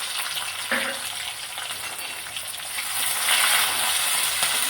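Sliced onion pieces hit hot oil in a pan for mango dal, a steady close sizzle and crackle with light stirring scrapes partway through.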